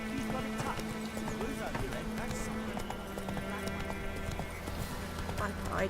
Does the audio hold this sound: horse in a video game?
yes